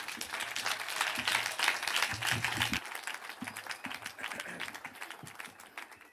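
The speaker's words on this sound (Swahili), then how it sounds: "Tungetaka kwa heshima tumpigie makofi, tumkaribishe rais wetu." A crowd at the funeral of Senator Methu's father, Maigo Waweru, applauds to welcome President Ruto, with steady, fairly close clapping that swells and then thins slightly while continuing throughout.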